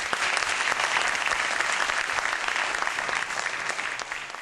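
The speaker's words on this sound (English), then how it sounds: "ladies and gentlemen, a round of applause" Steady applause from a seated audience at a youth leadership event fills a few seconds with dense, close clapping and no break.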